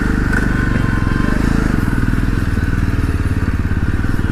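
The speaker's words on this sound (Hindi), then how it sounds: "चालू करते हैं अपनी बाइक और निकलते हैं" A motorcycle engine runs close by with a rapid, steady putter after starting, idling and revving unevenly with some mechanical clatter.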